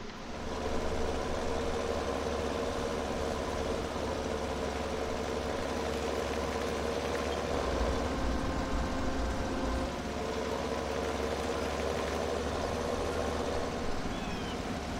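A tractor engine idles steadily on a farm, a continuous low rumble holding at an even level throughout with no voices over it.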